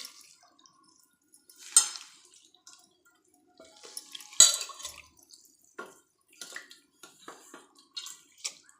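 Gongura leaves are rinsed by hand in salted water, giving quiet, scattered splashes and drips with a few louder sloshes and long near-silent gaps.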